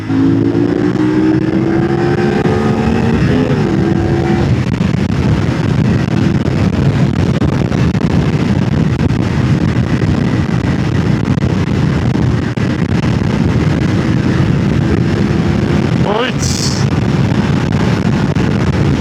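CFMoto 450 SR motorcycle riding on a rough road while still being run in, a loud steady engine drone with wind rush and brief rising revs early on, recorded close from the rider's position with no talk.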